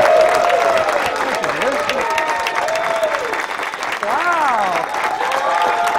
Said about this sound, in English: please stand and give a round of applause to Mr.